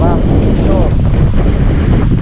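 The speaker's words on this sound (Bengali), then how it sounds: "প্রচুর বাতাস বইছে দেখেন প্রচুর বাতাস" Strong wind roars steadily across an open microphone on a hillside in Thanchi, Bandarban, a continuous low buffeting rush with no break.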